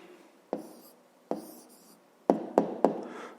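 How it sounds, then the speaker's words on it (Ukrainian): Writing down a maths answer by hand, heard as soft, close taps and scratches of pen or chalk in short irregular strokes, with a quick cluster of three near the end and no speech. "зараз давайте тоді запишемо відповідь"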